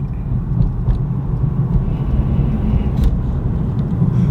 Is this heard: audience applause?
no